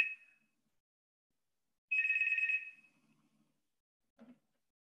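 A telephone rings in bursts, a short chirp at the start and then a longer warbling ring, followed by quiet and a faint clunk as the handset is handled.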